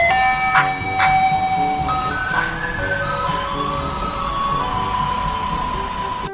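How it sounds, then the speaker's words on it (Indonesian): Toy ice cream truck playing its electronic jingle, a bright tinny melody of sustained tones with a few sharp clicks, loud and close, running continuously with no talk. "di sini ada mobil es krim"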